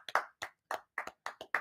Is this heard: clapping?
yes